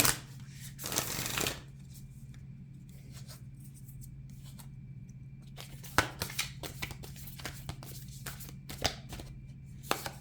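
A deck of oracle cards is shuffled close up: a dense riffling burst at the start, then lighter irregular card slides and taps, quiet with a low steady hum beneath and no voices.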